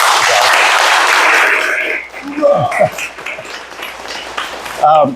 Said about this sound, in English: one more round of applause for Renee and a great story